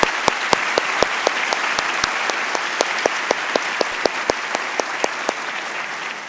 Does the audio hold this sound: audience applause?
yes